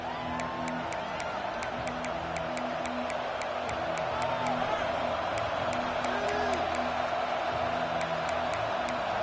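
A stadium crowd roars in the video game College Football 26 at an Arkansas vs Auburn kickoff, a steady wash of cheering with faint whistles and a rhythmic ticking over it.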